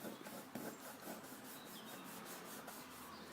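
Glued paper flap pressed and smoothed down against the edge of a drawer piece, a steady soft rubbing and scraping that continues throughout with a faint rhythmic pulse, close by and alone.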